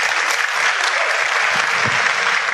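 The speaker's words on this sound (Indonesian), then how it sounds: "Aplaus dulu untuk Bapak Ibu semua." Steady applause from a meeting audience fills the moment, dense clapping held at an even level throughout, with no voices over it.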